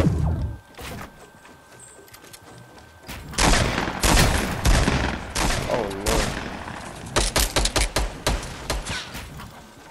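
Video-game gunfire in a Fortnite Battle Royale solo match, with a brief burst early on and then dense, loud volleys of rapid shots and bursts through most of the stretch, under a voice.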